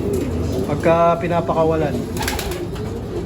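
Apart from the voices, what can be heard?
pigeons cooing in a colony loft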